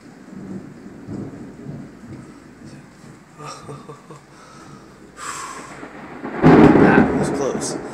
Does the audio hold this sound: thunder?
yes